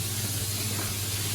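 Sausages sizzling in a pan of browned fried onion for a feijoada, a steady close, dense hiss with a low hum underneath and no talking.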